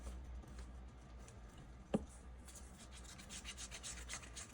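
A stick stirs epoxy resin in a mixing cup with quiet repeated scraping and rubbing strokes, faint and close, with one sharp tap partway through.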